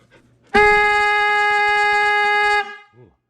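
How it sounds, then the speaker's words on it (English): A loud train-style horn, tested on a tractor, gives one steady two-second blast with a sudden start and stop, followed by a short quiet pause. "we'll test out the sound for this horn"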